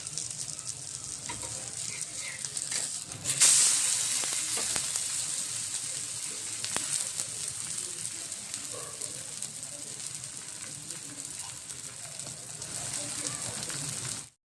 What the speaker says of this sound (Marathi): आता दुसरा थालीपीठ टाकलेला आहे